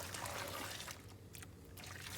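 Hot boiled water is poured over fresh peaches to blanch them, a steady, soft splash and trickle that thins out partway through.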